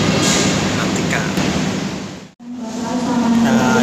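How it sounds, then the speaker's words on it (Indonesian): Sri Lelawangsa passenger train pulling into Medan station, a heavy continuous rumble with a brief cut near the middle and a steady low hum afterward, while someone talks over it. "Nah, itu kereta api Sri Lelawangsa"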